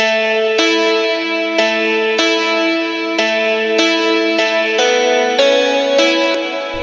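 A heavily distorted electric guitar, processed with a distortion plugin, Valhalla Room reverb and compression, plays a steady chord progression, with changes about every second, thick and compressed with a roomy reverb tail.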